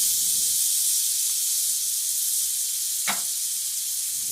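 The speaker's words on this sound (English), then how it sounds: "we will be frying this side also for about 3 minutes" Steak sizzles in butter in a pan with a steady, bright hiss, and a brief sharp crackle near the end.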